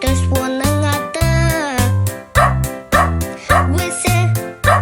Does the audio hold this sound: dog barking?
yes